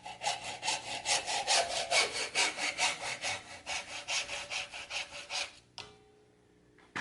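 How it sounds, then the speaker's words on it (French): A hacksaw cuts through the end of a metal pipe in fast, rhythmic back-and-forth strokes, loud and close, stopping abruptly near the end, with no talking. "Donc après un coup de scie à métaux."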